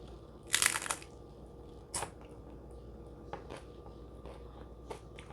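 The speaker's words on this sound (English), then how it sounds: "I do like the crunchy shells for the crunch" Crunchy Taco Bell taco shells being bitten: one loud, close crackling crunch, then a smaller crunch and a few faint chewing crackles against a quiet background.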